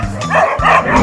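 Dogs attacking a jaguar: loud, close, overlapping barks and snarling yelps from several dogs in rapid succession, filling the whole short burst with harsh aggressive sound.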